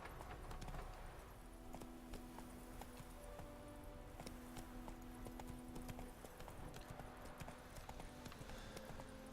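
Horse hooves clip-clopping at a steady galloping rhythm in Witcher III: Wild Hunt, continuous and fairly close, with game music tones and a voice occasionally urging the horse on.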